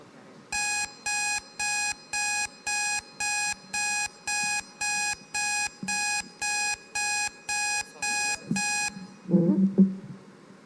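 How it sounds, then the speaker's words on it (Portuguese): An alarm clock rings during a conference in a rhythmic series of about fifteen loud, evenly spaced electronic beeps before stopping, followed by brief handling noises. "o alarme era para ver se estava todo mundo acordado"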